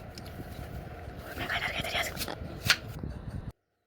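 Knife slicing an onion into thin rounds on a cutting board, a quick run of close, soft chops and taps that ends in a crisper knock before a sudden cut to silence.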